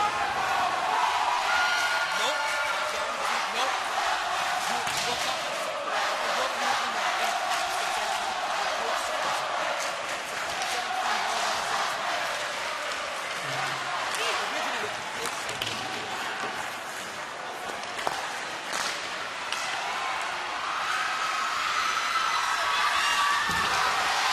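Crowd of hockey fans at a high school sectional championship final between Suffern and Mamaroneck, a steady broad roar of cheering and applause filling the arena throughout, loud and continuous.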